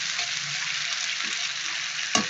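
Pork humba fries in a pan with a steady, bright hiss of hot oil, up close, and a brief clatter of a utensil near the end.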